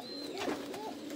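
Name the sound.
pigeon cooing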